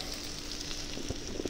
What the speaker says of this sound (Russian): Теперь выкладываем охотничьи колбаски